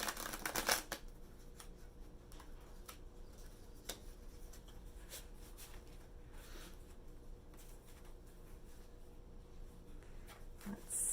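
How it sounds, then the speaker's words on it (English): A tarot deck shuffled close by, a soft continuous riffle and flutter of cards with a sharper snap at the start, quiet and steady throughout. "So I'm gonna pull a card for us"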